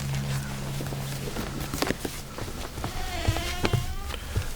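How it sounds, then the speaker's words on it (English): A bee buzzes in short bursts, its faint drone weaving through a busy close mix of rustles, taps and thuds, with a low hum at the start. "Another bee. Another bee."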